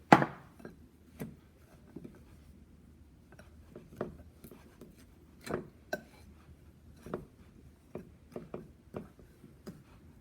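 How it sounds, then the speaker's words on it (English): A fork presses cold butter into brown flour in a bowl while making banana bread, giving a run of soft, irregular scraping thuds close by, with no talk. "Just take a fork and press your flour into your butter."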